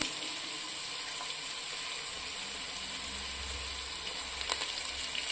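Mint and coriander leaves frying in oil in a pan with ginger-garlic paste, giving a steady, close, even sizzle throughout with no talking.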